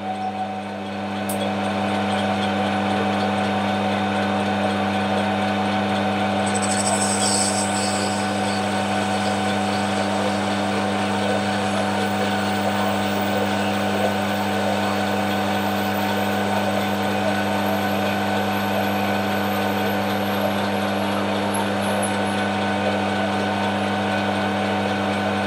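A metal lathe cuts a part off on power feed of the top slide: a loud, steady mechanical drone with a constant whine runs for nearly half a minute, with a brief higher squeal partway through.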